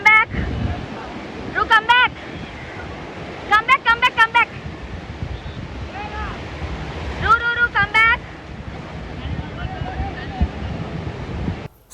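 Ocean waves rolling onto a beach at Goa, a steady broad wash of surf with wind noise across the microphone, while several people talk and call out intermittently over it.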